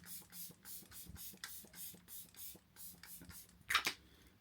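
Makeup setting spray hisses out in a run of short, evenly spaced pumps, close and soft, ending with a sharper click and rustle.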